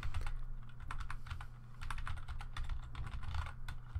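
Steady, quick typing on a computer keyboard, close and clear, with rapid clicking keystrokes in uneven bursts and no voices.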